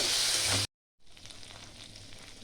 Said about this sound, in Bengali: ভালো করে নাড়িয়ে চাড়িয়ে নেব।